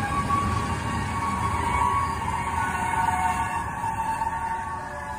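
A train tears straight through a truck stuck on the tracks, heard as a loud, continuous rumbling roar of rail noise with a steady tonal whine running throughout.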